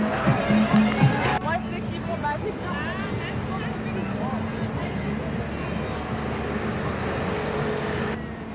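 Large street crowd partying in a flash mob on the Champs-Elysees in Paris, a dense, continuous roar of many voices with cheering and shouts, loud and steady throughout, with music-like tonal bursts and individual voices rising near the start.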